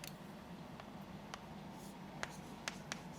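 Writing on a board during a chemistry lesson, faint continuous scratching with several sharp tapping strokes spaced irregularly over a steady hiss of room noise.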